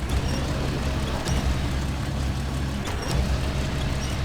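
Kenworth truck engine in the SnowRunner video game, a steady, loud low rumble that holds evenly for several seconds with no speech over it.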